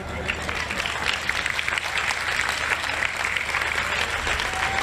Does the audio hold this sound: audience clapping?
yes